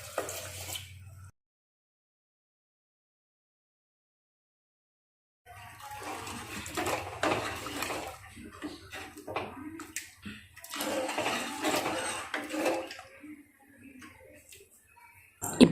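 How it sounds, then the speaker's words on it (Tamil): Two tumblers of water are poured into a pot of sambar being made for idli. After a stretch of silence, a fairly close sloshing pour rises and falls in uneven gushes. "2 டம்ளர் தண்ணி சேர்த்துக்கிறேங்க."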